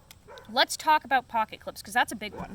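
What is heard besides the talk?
dog barking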